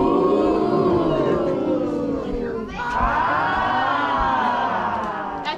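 A crowd at a show at the Mystery Spot in Santa Cruz, California, cheers and shouts loudly, with whoops and many overlapping voices that dip briefly and then swell again for the rest of the moment.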